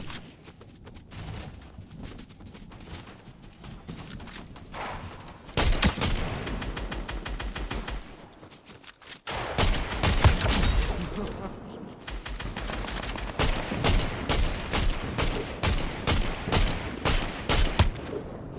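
Fortnite gunfire comes in rapid bursts and sustained volleys, close and loud, building into heavier, denser shooting as the fight goes on.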